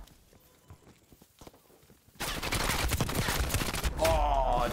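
Burst of AK74u automatic gunfire in the video game Black Ops Cold War, arriving abruptly after quieter footsteps and loud and dense for the rest of the moment.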